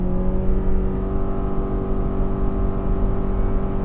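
A 2025 Subaru Forester Limited pulls away from a stop under throttle, its engine drone steady and close with a smooth rising hum inside the cabin.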